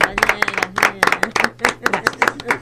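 Audience applause breaks out after a talk at a school-themed event on living things, with many hands clapping in a dense, uneven patter that stays strong throughout.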